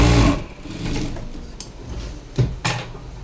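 A sewing machine stitches a lightweight cotton high neck blouse in short whirring bursts, with sharp clicks and quieter gaps between runs, up close.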